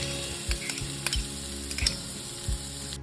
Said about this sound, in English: We'll start by sauteing half cup of chopped onion in a wok over medium-high heat